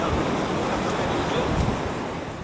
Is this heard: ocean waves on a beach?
yes